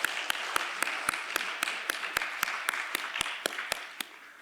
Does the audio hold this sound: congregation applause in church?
yes